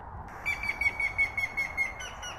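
A recorded bird call played back outdoors on a hike through a Cheonan forest: a thin, repeated high chirping series of about eight short notes, fairly faint over soft background hiss.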